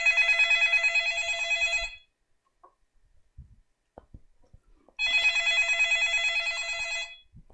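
A telephone rings in two long trilling bursts separated by a pause, loud and close, with faint knocks and shuffles in the quiet gap, heard in a Christmas Eve church comedy skit.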